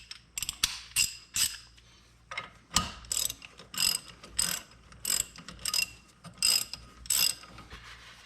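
A ratchet with a 21mm socket loosens caliper bracket bolts set with thread locker on a Jeep Liberty CRD. Close, crisp bursts of clicking pawl teeth repeat in a steady rhythm of short strokes.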